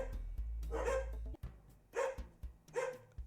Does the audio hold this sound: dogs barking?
yes